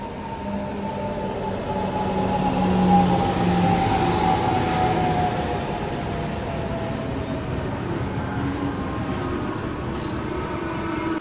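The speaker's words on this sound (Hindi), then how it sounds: "ये लो शताब्दी निकल गई" Shatabdi express train running past on the main line beside a train held at a red signal, a steady loud rumble of wheels and carriages lasting throughout, swelling slightly near the start and holding constant, with no talk.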